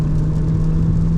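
A 2026 Jeep Renegade Altitude with a 176 cv turbo engine pulling hard at full throttle on the highway, a steady, close mid-pitched engine drone with a constant whirring tone under it.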